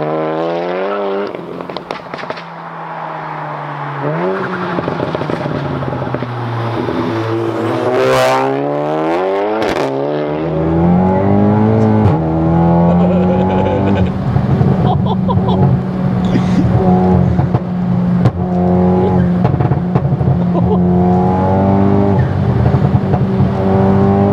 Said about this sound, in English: I think we'll get it fired up and go for a spin.